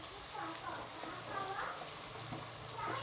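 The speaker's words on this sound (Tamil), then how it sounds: "இப்போ இலத்தலை சேர்த்துட்டு கூடவே 4 பச்சை மிளகாய் சேர்த்துக்கிறேன். இதையும் ஓரளவுக்கு நல்லா வதங்கட்டும்." Curry leaves and green chillies sautéing in a pan for a thaali salna give a faint, steady crackling hiss, with a voice talking softly over it.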